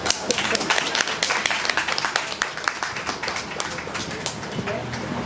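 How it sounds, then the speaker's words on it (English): Audience applause at a personal branding talk, dense clapping filling the room steadily throughout, with some voices and cheers mixed in. "Applause."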